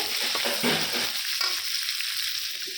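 Cauliflower dropped into a pan with meat frying sizzles loudly, with a burst of stirring and scraping early on that settles into a steady hiss.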